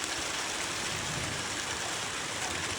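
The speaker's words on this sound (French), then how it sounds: "Il y a des grosses pluies encore." Heavy rain falls during an exceptional thunderstorm in Corrèze, France: a dense, unbroken roar of downpour at steady loudness throughout, with no thunder or voices standing out.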